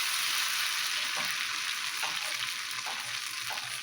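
Ghevar batter poured from a height into hot frying oil, a dense, steady crackling sizzle close by, with a few soft splashing pulses as more batter goes in, no voices.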